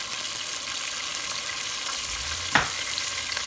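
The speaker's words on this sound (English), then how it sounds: "And while that is frying" Steady sizzling of salsa for mole verde frying in a hot pan, a continuous crackle with one brief clatter of a utensil partway through.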